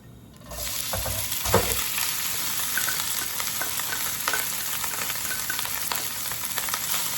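Day-old rice hits hot oil in a pan and breaks into a loud, steady sizzle that keeps crackling throughout, with occasional scrapes and stirring knocks close by.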